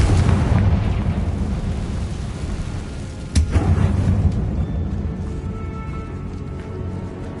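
Confringo fire-blast spell cast in the Hogwarts Legacy video game inside a tomb, a sharp explosive burst rising out of a steady rumbling background roar, with a single loud crack midway and no talking.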